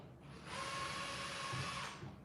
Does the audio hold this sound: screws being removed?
yes